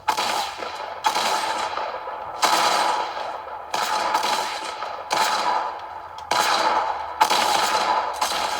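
Gunfire in Fortnite, played on a cheap Celeron N2840 laptop, sounds as six or seven loud, sharp shots at roughly one-second intervals, each with a ringing decay that fades before the next.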